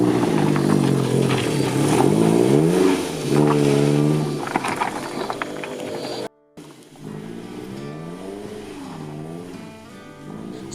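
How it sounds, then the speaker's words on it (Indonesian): A car engine revs and strains repeatedly as it struggles up a badly damaged, broken road, the pitch rising and falling in labored surges with clattering, briefly cutting out before straining again. "kita menghadapi kendala mobil tidak bisa naik karena jalanan yang sangat rusak"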